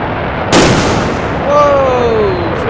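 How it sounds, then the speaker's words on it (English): Pyrotechnic explosions set off during a flying display at the Cosford Airshow, a loud sudden boom that rolls into sustained rumble, with a jet's rising whine emerging behind it. "Flying through the explosions there, pyrotechnics."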